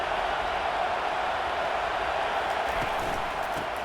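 Stadium crowd noise from a college football video game, South Carolina against Notre Dame: a dense, steady roar of massed voices at constant loudness throughout, with no commentary or talking heard over it.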